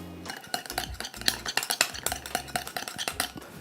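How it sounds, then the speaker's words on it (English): Lemon juice salad dressing for an Italian dressing being whisked by hand, a utensil clinking and scraping rhythmically against the bowl in quick repeated strokes, close and fairly loud with no talking. "Then I'm going to stir it little by little"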